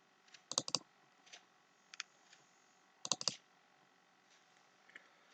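Computer mouse buttons clicked in editing software, sharp close-up clicks arriving in small clusters and single taps with quiet pauses between, no voice.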